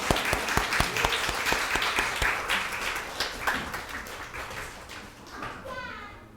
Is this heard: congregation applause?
yes